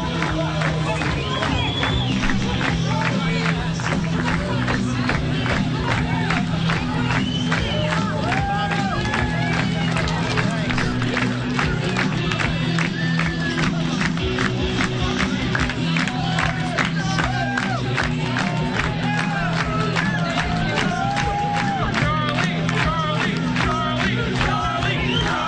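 An election night crowd cheers, claps and shouts continuously at a victory gathering for a newly elected congressman, a loud, dense roar filling the room with voices mixed in.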